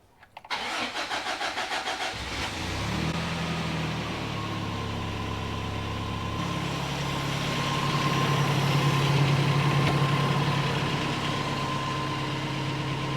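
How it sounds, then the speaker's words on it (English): A cheap Toyota truck engine cranks and starts, then settles into a steady, loud idle close by, with the rumble swelling slightly midway. "thing is just gonna go vroom"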